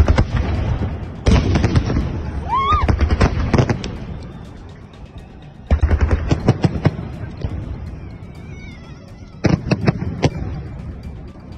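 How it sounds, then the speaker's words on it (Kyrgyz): Victory Day fireworks salute, with three loud bursts of rapid crackling bangs separated by quieter rumbling gaps and a rising whistle in the first burst. "Ал эми салют кээ бирлер үчүн сюрприз менен аяктады"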